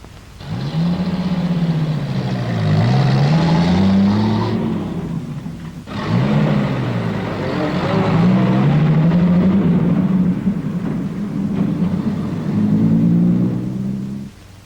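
A 1942 US Army truck engine drones loud and close, its pitch rising and falling through repeated revs and gear changes, with a brief lull near the middle before it pulls away again.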